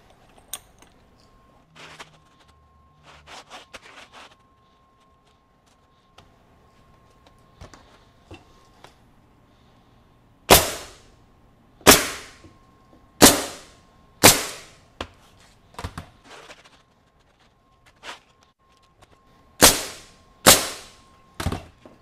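MAX SuperRoofer CN445R3 pneumatic coil nailer driving roofing nails: after some quiet handling clicks, nine loud, sharp, close shots fire in a loose irregular rhythm, each with a short decay, with no talking.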